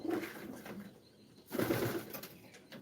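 Racing pigeons in a loft coo in soft, low throaty bursts, one near call at the start and a fuller, louder coo after a short pause, with faint rustling in between and no speech.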